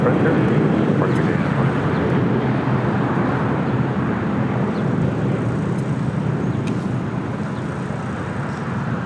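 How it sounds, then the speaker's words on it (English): United Airlines Boeing 737-900ER departing LAX for SFO gives a broad, steady jet rumble that slowly fades over several seconds, with faint voices underneath. "That was United Airlines Flight 2150 heading to SFO at a 737-900ER."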